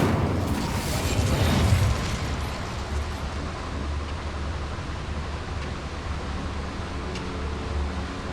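Incendio fire spell from Hogwarts Legacy, a whooshing fiery burst in the opening seconds that fades into a steady low rumbling ambience.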